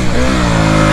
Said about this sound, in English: in first gear, I'm basically just going to rip on the gas right now